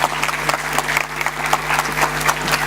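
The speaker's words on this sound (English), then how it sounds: "A round of applause for him, please." A room full of people clapping steadily, a dense, even patter of applause throughout.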